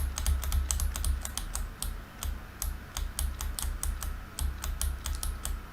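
Rapid, irregular clatter of computer keyboard keys pressed during flight simulator play, many close crisp taps over a low steady hum, with no voices.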